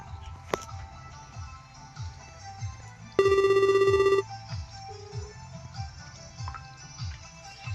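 A telephone rings in one loud, steady electronic burst of about a second, heard alone in a quiet room before a short fainter tone follows.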